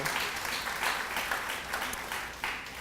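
A dense, continuous round of applause from an audience fills a children's service awards event, steady and fairly loud throughout with no pauses.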